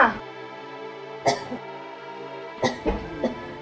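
Several coughs from a person with a bad cough, in short bursts at scattered moments over a steady tonal music background, fairly close and moderately loud.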